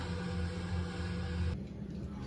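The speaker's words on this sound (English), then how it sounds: "the noise you can hear in the background is my dishwasher really singing its tune" A steady mechanical whirring and low rumble of a dishwasher fills the room, with a broadband hiss that suddenly drops partway through.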